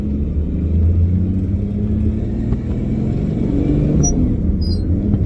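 A 1962 Ford Falcon with a 200ci engine and T5 gearbox accelerates in first gear, a loud, close, steady low engine rumble and drone throughout.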